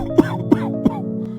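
Three short, evenly spaced coughs from an old man, close and rough, over a steady low hum.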